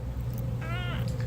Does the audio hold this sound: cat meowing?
yes